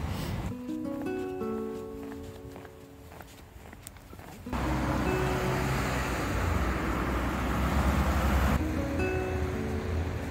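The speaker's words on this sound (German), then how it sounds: "Entweder hört man die Bahn oder man hört die Autos, die zur Bahn fahren." Steady road traffic by the railway station in Bad Vöslau, Austria: cars passing at moderate distance as a continuous broadband rumble that grows louder midway, with no voices.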